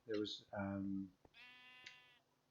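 Two loud, close sheep bleats from a Minecraft modpack (Stoneblock 2) farm of condensed mobs, followed by a fainter, longer bleat, clear against a quiet background.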